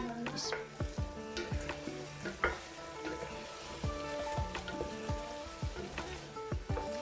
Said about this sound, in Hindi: अब हम मज़ीद 2-3 मिनट भून लेंगे